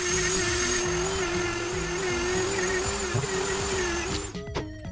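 Steel wire brush scrubbing parts of a small high-pressure mini compressor during repair, a steady continuous whine with a sustained tone and fine scratchy texture, close and loud, ending in brief clattering knocks.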